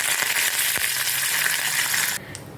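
Mustard seeds, urad dal and curry leaves crackle and hiss loudly in hot oil for about two seconds, then the sizzle drops sharply to a quieter simmer.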